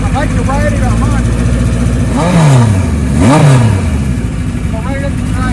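A restored 1975 Kawasaki Z1 900 motorcycle engine idles loudly up close and is revved twice in quick rising-and-falling bursts, with a voice speaking over it.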